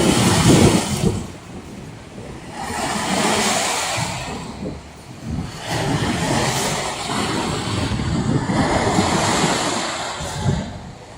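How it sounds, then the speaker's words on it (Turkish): Choppy wind-driven waves on Lake Eğirdir in Isparta, Turkey slap and wash in repeated surges, rising and falling every few seconds, with wind buffeting the microphone and no voices. "Hava rüzgarlı olduğu için göl epey bir dalgalı."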